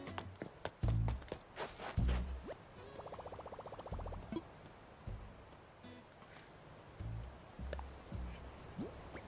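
A duck in Animal Crossing New Horizons quacks in a quick run of repeated calls amid footstep taps and other game sounds, fairly clear and close, with no talking over it.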